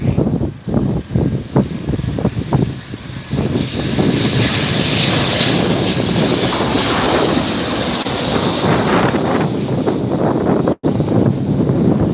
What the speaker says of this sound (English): KLM taxing up now